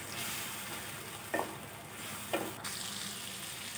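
Chana dal and bottle gourd frying in oil, heard as a soft, even hiss with two brief scraping stirs and a later clink, fairly faint and close, no voices.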